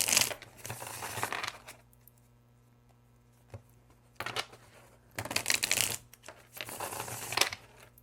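A Tarot de Marseille deck of linen cardstock cards is shuffled by hand: bursts of riffling and flicking card noise separated by quiet pauses, close and fairly soft, with no talking.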